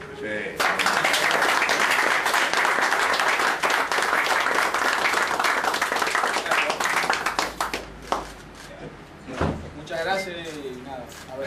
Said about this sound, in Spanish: que sorprendiéramos con un aplauso